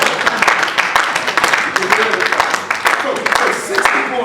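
An audience claps at a pastor's motivational training talk, with steady, dense hand claps filling the space.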